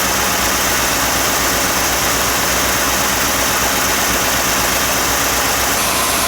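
A vehicle engine holds a steady, loud drone at raised revs near 2,000 to 3,000 RPM during battery tester diagnostics, a continuous close hum with no speech.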